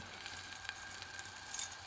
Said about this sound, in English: A couple of trial pieces in there. Seem to be frying up good.